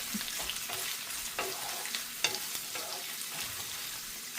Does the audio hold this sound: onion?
yes